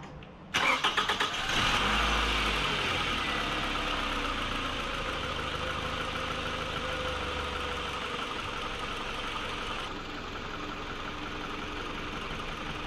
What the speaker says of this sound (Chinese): 我们刚才是给整个汽车 打着了，让它开始工作了